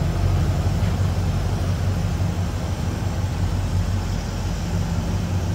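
A 1976 Chevrolet Malibu Classic with a 305 V8 and Turbo Hydramatic 350 automatic runs at a smooth, steady idle, its low even rumble continuing alone and fairly close.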